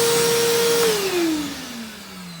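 Harbor Freight Bauer 6 gallon 4 hp shop vacuum whining loudly alone, its motor pitch sliding steadily downward as it spins down.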